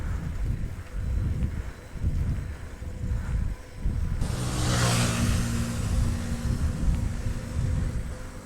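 A motorbike passes on a straight city bypass road at night, its engine rising to a loud whooshing rush midway and then staying as a steady roar with wind noise.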